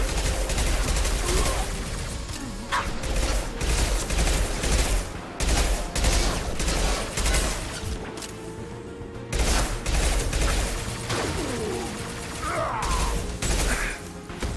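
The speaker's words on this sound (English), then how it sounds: "Firing a high-impact shot." Gunfire in the video game Mass Effect 2, repeated bursts of automatic shots in uneven clusters with brief pauses between, loud and close amid mechanical battle clatter.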